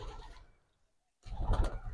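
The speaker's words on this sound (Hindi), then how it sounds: "देखो कबूतर आ चुके हैं सारे" Soft low cooing of pigeons in a short burst, then a brief hush before a louder, fuller stretch of cooing and fluttery bird sounds close by.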